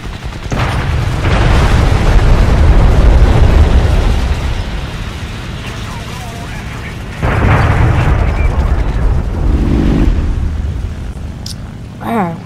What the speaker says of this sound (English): I think I just pulled off a perfect bombing on those things